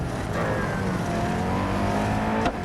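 Koenigsegg Agera RS hypercar engine in Real Racing 3, roaring continuously at high revs with steady harmonic tones and a short sharp burst near the end, no speech.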